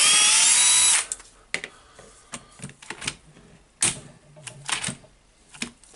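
A Hilti electric drill, used to disassemble a TE1000 AVR concrete breaker, whines loudly under heavy load for a second and stops, followed by a series of clattering knocks and rattles of tools.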